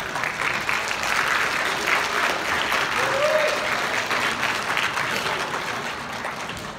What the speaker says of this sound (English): Kids, we can take a second and give our families a round of applause for all of their hard work.